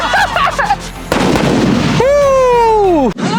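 A fancy fountain firecracker bursts with sharp pops and a loud, sustained spraying hiss, and a whistling tone sweeps downward before cutting off. A voice is heard briefly at the start.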